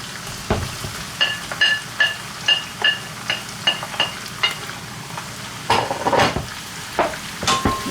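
Onions and garlic sauté in a pan for humba while a utensil stirs them, giving a steady soft sizzle under a string of regular scraping taps, each one short and fairly loud, close at hand.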